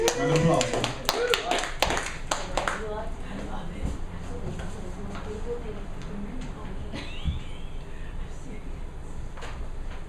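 A small audience at an Austin poetry open mic claps for the next performer, with loud sharp claps for the first few seconds that thin out and fade into room murmur.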